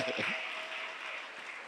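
A church congregation applauding and cheering in praise, a broad steady wash of clapping that holds evenly from start to end with a few voices mixed in.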